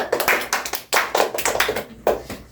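A classroom of pupils claps for a group that has just presented, a few uneven bursts of hand claps with short gaps between them, fairly close and loud.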